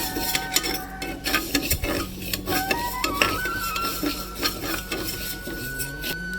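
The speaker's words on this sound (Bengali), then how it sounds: "প্রেসার কুকারে দিয়ে ভালো করে লাল করে ভেজে নেব।" A utensil stirs and scrapes lentils being dry-fried in a pressure cooker, with repeated metallic clinks and scrapes, a faint sizzle and a low background hum; no voices.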